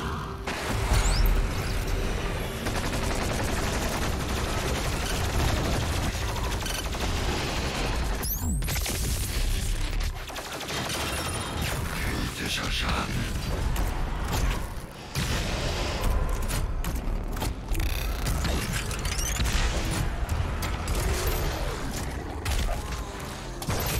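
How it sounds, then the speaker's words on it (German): The BFG weapon in Doom Eternal fires as a dense, sustained wash of loud booming blasts and explosive gameplay noise that runs through the whole stretch with little pause. "Dann mit der BFG, das ist die Nummer 8, werde ich ihn dann direkt über den Haufen schießen."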